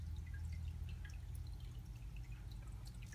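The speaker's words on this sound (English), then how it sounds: "I like hearing the waterfall. That's why I got it running." Water trickles continuously from a small fish tank waterfall running with no fish inside, a steady low wash with scattered fine drips and splashes, near and fairly quiet, alone with no talking.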